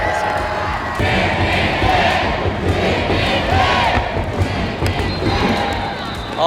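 A stadium crowd at a baseball game cheers and claps for player Hong Chang-gi, a dense roar of applause and shouting that fills the whole stretch, with an announcer's voice faintly mixed in.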